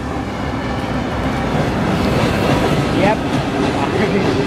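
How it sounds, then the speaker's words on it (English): A train rolls past outdoors, a loud steady rumble and rattle of rail cars, with a brief spoken word over it. "And there's a train."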